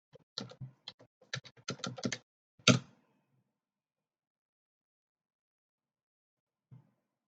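Computer keyboard typing up close, a quick irregular run of key clicks ending in a louder tap, then silence and one faint late keystroke.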